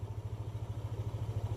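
Motorcycle engine idling steadily after a CKP sensor replacement, close by with a fast even putter and regular pulsing throb.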